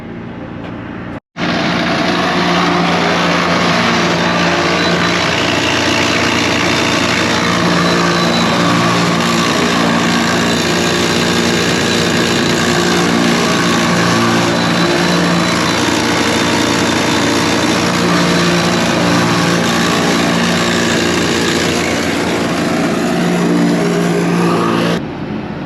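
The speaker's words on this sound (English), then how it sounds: "it's spinning the knife drum backwards, 330 to 350 RPMs, and now the stone is sweeping across the knives" A farm machine's knife drum spins backwards at about 330 to 350 RPM while a sharpening stone sweeps across the knives, giving a loud, continuous mechanical roar and grinding whine that cuts in abruptly after a second and holds steady to the end.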